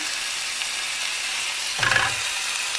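Burger patties sizzling steadily in a hot pan, with a brief louder scrape and spatter as one is flipped partway through.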